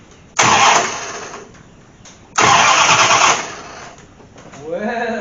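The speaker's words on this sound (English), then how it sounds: "let's just see if she'll turn over" An old car engine that sat for about six years cranks in two loud bursts, each catching briefly before dying back, and ends in a rising rev as it fires, close and loud.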